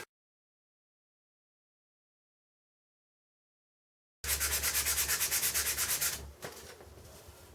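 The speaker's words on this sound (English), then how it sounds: "This has to be sanded down." Sanding of dried filler over a deep patched hole in a wall, starting abruptly after silence as loud, close, rhythmic back-and-forth scraping strokes for about two seconds, then a few softer rubbing passes.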